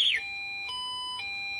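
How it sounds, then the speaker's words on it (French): A Sunra Robo electric scooter's alarm sounds, with a brief falling electronic sweep followed by steady, close, moderately loud electronic tones that change pitch twice. "Là, j'ai mis l'alarme, je l'éteins."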